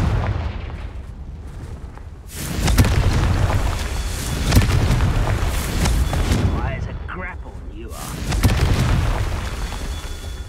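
Repeated explosive spell blasts from a fantasy wizarding video game, loud booming bursts landing in a row under a layer of talk.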